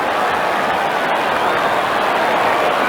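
A packed football crowd at Football Park applauds and roars in a steady, dense wash of clapping and cheering that holds at full volume throughout.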